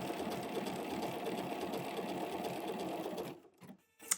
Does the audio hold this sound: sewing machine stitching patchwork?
yes